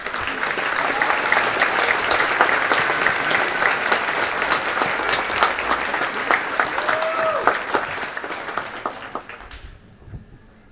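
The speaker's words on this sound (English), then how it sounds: "Let's give them a round of applause." A community college graduation crowd applauds faculty and staff with dense, sustained clapping for about ten seconds before it tapers off near the end.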